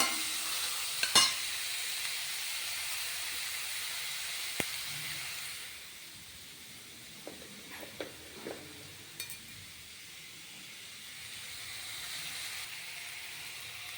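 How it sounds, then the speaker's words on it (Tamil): Small onions sautéing in a pan for bitter gourd kulambu, a soft steady sizzle and hiss with a few spoon clinks and stirring scrapes, fairly quiet and close, no talking. "வெங்காயம் நல்லா வதங்கணும்."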